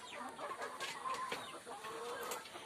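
Chickens cluck softly and repeatedly, close by, in a quiet backyard setting as they drink fresh cool water from a cleaned pot on a hot day.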